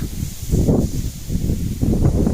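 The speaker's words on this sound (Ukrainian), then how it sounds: "Піднявся вітерець." Wind picks up by a lake during late-September crucian carp fishing, a low, rumbling buffeting that swells and eases in gusts with no voices.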